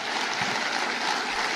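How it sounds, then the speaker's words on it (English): An audience applauds police leaders with a continuous, even wash of clapping from many hands, heard at a moderate distance for the whole stretch. "would you give all of those individuals who stepped up into a leadership position a round of applause"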